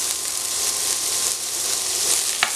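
Onion, ginger garlic paste and cloves frying in oil for a Malaysian-style chicken curry: a continuous, close hiss of sizzling with a brief clink near the end.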